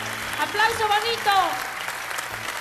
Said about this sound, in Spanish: ¡Aplauso bonito!